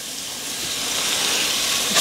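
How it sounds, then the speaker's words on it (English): Onion, carrot and celery sweat in oil and bacon fat in a pan, giving a steady, close, fairly loud sizzle and hiss that rises slightly through the moment. "And now we're just going to sweat the veggies down."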